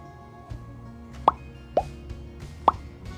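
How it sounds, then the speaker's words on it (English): Vegetable pieces are dropped one at a time into a thick curry goat sauce, giving three distinct wet plops at an uneven pace over a quiet background, with no talking. "So here I'll add the rest of the vegetables for the garnish."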